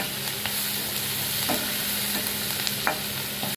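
Onions and green chillies sautéing in a pan for mushroom gravy, a continuous close sizzle with occasional scraping stirs, no talking.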